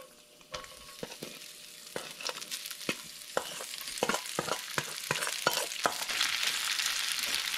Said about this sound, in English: Put in about another teaspoon of vegetable oil. Now put the rice in.